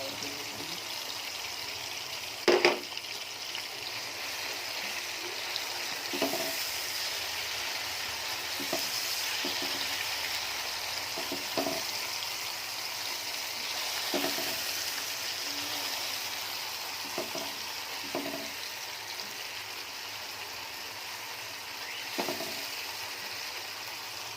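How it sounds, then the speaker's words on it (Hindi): Ginger and garlic paste frying in a pan with a continuous soft sizzle, punctuated by occasional scrapes and taps of a spoon stirring, steady and moderately close throughout. "ये अदरक और लहसुन का पेस्ट ये भी फ्राई हो चुका है।"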